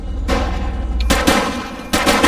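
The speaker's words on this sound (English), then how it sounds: "She's shooting!" Bursts of rapid gunfire in the police game The Precinct, loud and close, arriving in three dense volleys with short gaps between them and no talking.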